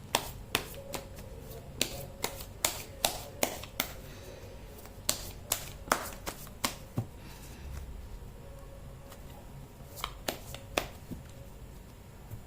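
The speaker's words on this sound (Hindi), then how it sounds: "मैं कर देती हूँ कार्ड की शफल।" Tarot cards are shuffled by hand in quick, irregular bursts of sharp slaps and riffles, close and fairly crisp, with short pauses between them.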